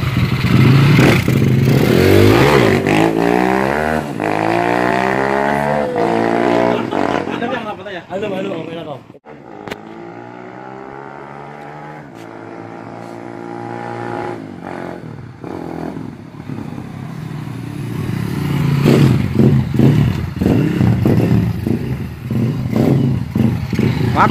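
A modified Honda Astrea motorcycle engine starts and revs up loudly, rising and falling in pitch over sustained revving, with a brief dip mid-clip before roaring again close up.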